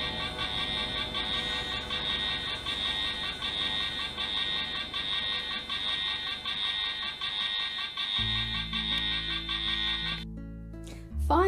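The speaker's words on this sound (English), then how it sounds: "spoke to Fireman Sam, and the Ocean Rescue alarm was raised." An Ocean Rescue alarm in a Fireman Sam cartoon sounds as a continuous, loud electronic ringing tone that holds for about ten seconds before cutting off into cartoon music.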